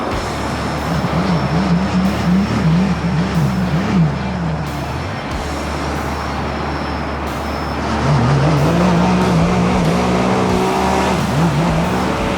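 A Sea-Doo Spark jet ski engine drones steadily at full throttle, its pitch wavering up and down, then rising louder again after a short dip.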